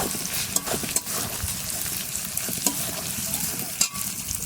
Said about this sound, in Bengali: মশলাটা ভালো করে কষা হয়ে গেছে, এবারে টমেটোটা দিয়ে দেবো, ভালো করে কষে নেব।